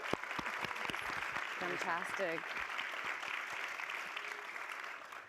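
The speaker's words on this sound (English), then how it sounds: "Let's have a round of applause for them." Applause from a conference audience at a leadership session: dense, steady clapping fills the room throughout, with a brief spoken word rising over it partway through.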